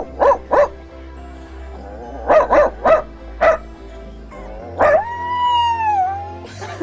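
A man imitates a dog with his voice, giving short loud bark-like yelps in pairs and triplets, then a drawn-out whining howl, with pauses between bursts.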